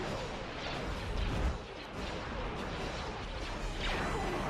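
Ion cannon fire in the space battle game Star Wars: Empire at War, a dense, continuous roar of blasts and booms filling the mix with heavy rumbling impacts and sweeping whooshes.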